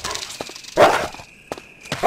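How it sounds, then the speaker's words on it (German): A dog barks in the survival horror game Resident Evil HD Remaster, a few sharp barks in short bursts, with thudding footsteps and a thin electronic tone in between. "Ich höre einen Hund."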